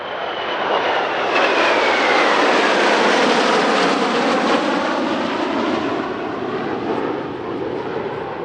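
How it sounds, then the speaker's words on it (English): Military aircraft in a mass flypast at an Italian Air Force air parade, a loud, dense roar of engines swelling overhead and slowly fading, with a sweeping pitch shift as the formation passes. "a huge mass flypast of more than 80 aircraft featuring almost every type in the Italian Air"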